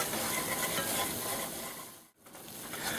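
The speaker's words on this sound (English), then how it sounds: "we're going to go ahead and just stir this up a little bit" A wooden spoon or whisk stirs an onion roux paste in a pan while it sizzles, building an onion cheddar cheese sauce; a steady close scraping hiss runs throughout, with a brief pause near the end.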